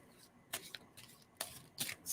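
Playing cards shuffled close by, several quick riffling bursts with short pauses between them, fairly quiet, no talking.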